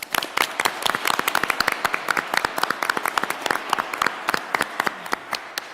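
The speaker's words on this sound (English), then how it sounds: "Please give them a round of applause." Audience applause at a school district board meeting, a steady patter of many hands clapping with dense, fairly close sharp claps throughout, no voices over it.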